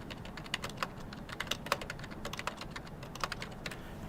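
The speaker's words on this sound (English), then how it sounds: "I'm going to type in the name of our pretend pie company" Quiet clicks of a computer keyboard as someone types, irregular taps in quick bursts, close and soft, alone with no talking.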